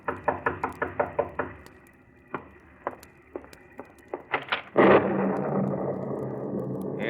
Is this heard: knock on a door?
yes